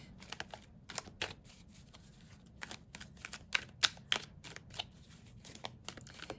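Tarot cards from a second deck are handled and shuffled, giving a string of quiet, crisp snaps and soft flicks in an irregular rhythm, close by and alone.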